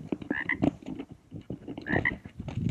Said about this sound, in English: There's another one croaking.